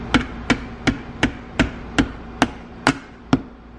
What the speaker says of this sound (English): Notice I didn't use the metal part of the hammer, I used the side of it that was soft.